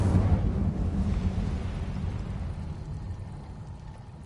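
Incendio fire spell cast in Hogwarts Legacy, a loud, close burst of roaring flame that rushes out at once and then slowly fades over a few seconds, with no talking.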